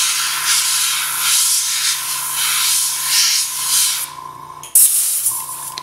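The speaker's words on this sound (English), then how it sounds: "I don't need to airbrush the whole thing solid. I just want to get the edges." An airbrush sprays edible luster dust along the edges of a flag cake topped with an edible crest, giving a steady close hiss that pulses slightly and cuts off briefly near the end before resuming.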